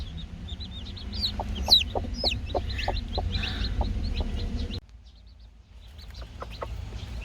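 A hen gives a steady run of low, rhythmic clucks calling newly hatched chicks to eat while high chick peeps chirp around her; after a brief drop, the clucking carries on.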